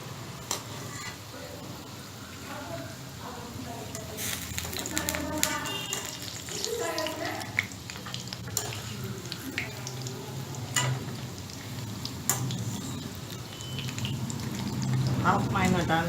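Kale pakoras fry in hot oil for a curry, giving a steady close sizzle and bubbling with clinks and taps of a utensil stirring, while a person talks over the cooking.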